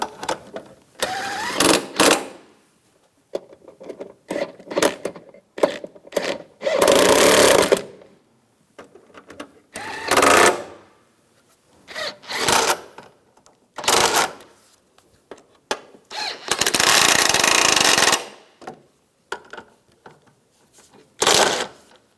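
Bolts tightened by power tool during a front strut assembly replacement on a 2004–2009 Toyota Prius, heard as several loud, separate bursts of ratcheting whir with short pauses between them.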